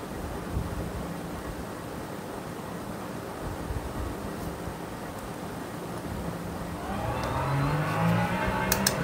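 A race car idles along on its pit limiter in the racing sim Le Mans Ultimate, giving a steady, moderate engine drone with a faint whine that swells a little near the end.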